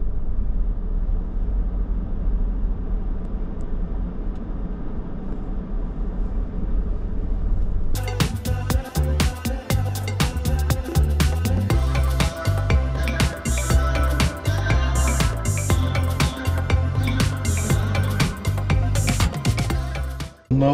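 An Audi S6 drives into a tunnel, its steady engine rumble and road noise suddenly swelling into a loud, dense, echoing roar with sharp clattering transients. No one speaks.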